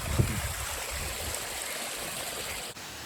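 Mountain stream water flowing near a trail waterfall, a continuous broadband rush and gurgle heard close and steady, with a brief soft knock near the end and no talk.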